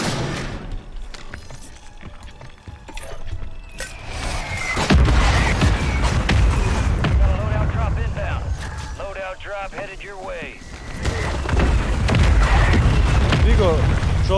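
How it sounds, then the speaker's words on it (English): Mortar shells exploding in the video game Warzone, a series of heavy booming blasts and rumbling impacts mixed with dense game noise, with players talking over the action. "Mortar."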